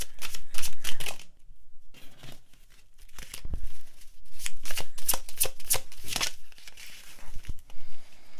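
Tarot cards being shuffled and drawn from a deck, brisk papery riffles and slides in close, loud bursts with a short pause in between, no talking.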